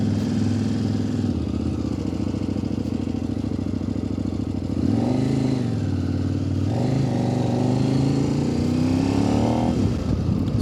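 A 2025 Kove 800X Pro motorcycle engine runs in first gear while riding off cold, a loud close rumble whose pitch rises and falls with a few throttle changes.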